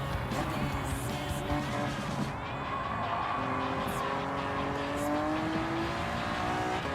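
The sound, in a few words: Honda NSX Type R '92 engine in a racing video game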